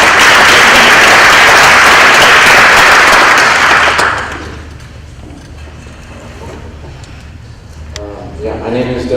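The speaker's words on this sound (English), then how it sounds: "Give him a round of applause," Loud crowd applause for a county collector candidate at a candidate forum, a dense roar of clapping that cuts off sharply after four seconds, leaving quiet room noise and a voice starting to speak.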